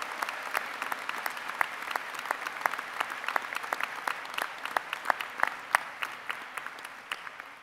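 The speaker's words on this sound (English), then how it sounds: "if we could give a really special, extra energetic round of applause as a special early Mother's Day thank you to all the moms in the audience" An audience at a spring 2019 undergraduate commencement ceremony gives a round of applause for the moms, with steady clapping and sharp individual claps standing out throughout, moderately distant and without speech.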